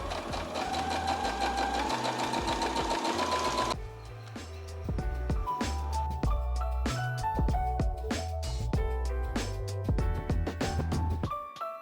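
Sewing machine stitching a second row of shirring elastic into a summer dress waist, running in steady continuous bursts with a brief pause near the start, close and loud throughout, with no talking.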